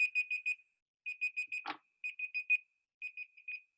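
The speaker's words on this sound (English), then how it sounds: "Oh, that's my timer." A kitchen-style timer alarm rings in rapid groups of four high electronic beeps separated by short pauses, close and faint, with one brief knock partway through.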